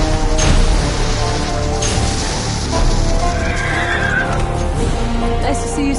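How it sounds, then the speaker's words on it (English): A horse neighs loudly in Black Ops 4 zombies, with a whinny near the start and hoof clip-clops within a dense mix of game sounds and background music. "I see a flying horse."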